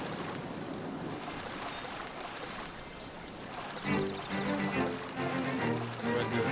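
Rushing water from a waterfall in Zelda: Link's Awakening, a steady broadband wash of splashing flow that holds throughout, with a brighter, busier layer of game sound joining it partway through.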